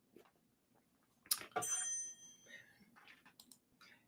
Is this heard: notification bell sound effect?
yes